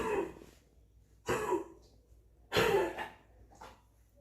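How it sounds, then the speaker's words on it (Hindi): Three harsh coughing bursts from a dog, spaced about a second apart, close and fairly loud, with quieter breathy sounds between them and no talking. "उसको बहुत दिन से हो रही है खांसी"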